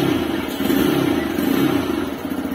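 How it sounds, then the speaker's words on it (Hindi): Up close, the engine of a 2023 TVS Raider 125cc E20 OBD-2 motorcycle is given throttle, its loud exhaust swelling into a rough, sustained rev that rises and eases back across a couple of seconds, with no speech. "एक बार इसको एक्सीलेट करता हूँ"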